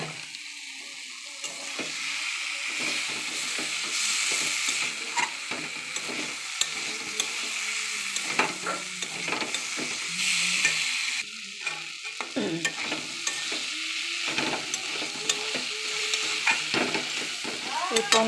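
Spices, tomato and vegetables such as yardlong beans, potato and eggplant fry in a pan while being stirred. A steady close sizzle runs throughout, broken by repeated scraping and clattering stirs, with no talking.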